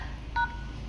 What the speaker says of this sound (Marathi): आता #111 दाबल्यानंतर पंप चालू होऊन जाईल